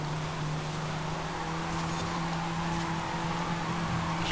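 Renault Megane RS 250 hot hatchback engine in the Forza Horizon 5 racing game, a steady droning hum with faint whine held at constant pitch throughout, moderately loud and alone without talk.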